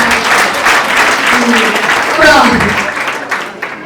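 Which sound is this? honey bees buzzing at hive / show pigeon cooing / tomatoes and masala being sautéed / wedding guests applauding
wedding guests applauding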